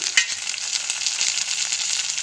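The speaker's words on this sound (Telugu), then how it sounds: "ఎర్రగడ్డలు కాస్త మగ్గాక టమోటాలు వేసుకోవాలి." Onions and curry leaves fry in hot oil with tomatoes, a close, steady sizzle with small crackles throughout and no talking.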